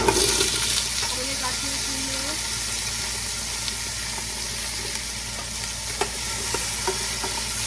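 Pumpkin dropped into hot oil seasoned with bay leaf, ginger and nuts, then stirred; a constant bubbling sizzle with light scraping and a few clinks, no clear speech.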